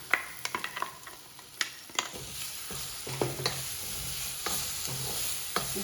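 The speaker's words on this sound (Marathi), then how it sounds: "सगळं छान परतायचं" A spatula stirs and sautés an onion, ginger and garlic masala in a hot pan for whole masoor dal, giving close, repeated scraping clatters over a steady sizzle, with no voices.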